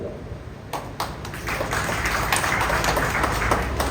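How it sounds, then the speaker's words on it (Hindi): Crowd at a Samajwadi Party and fishing community rally marking Phoolan Devi's birth anniversary claps in a steady, dense wash of applause. The clapping swells slightly and holds throughout, with no speech over it. "इस बात पर तालियां कम क्यों?"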